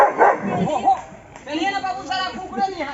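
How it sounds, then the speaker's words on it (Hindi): A dog barks and yips repeatedly over village festival chatter, the barks mixed into people talking nearby at moderate loudness. "कुत्ता देखियो कते खतरनाक छै"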